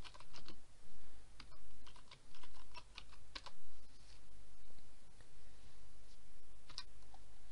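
Someone types on a computer keyboard while editing a WordPress blog post, producing irregular bursts of close, light key clicks with short pauses between them and no talking.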